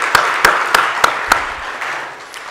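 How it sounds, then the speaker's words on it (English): A few slow, evenly spaced claps at a talk on South Africa, close and distinct, with a soft background hum and no crowd applause around them. "Can we please give him another round of applause?"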